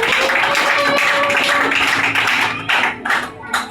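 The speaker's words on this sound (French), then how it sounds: "Acclame pour la parole de Dieu." A church congregation applauds together, a dense, loud patter of many hands clapping in a reverberant room that thins out into scattered claps near the end.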